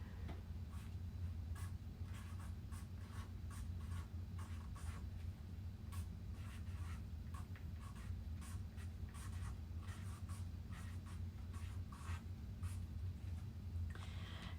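A Sharpie marker writes on a dark blue paint chip card, quiet scratchy strokes coming in short irregular squeaks over a low background hum.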